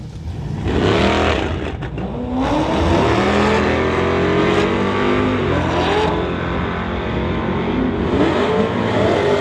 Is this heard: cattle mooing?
no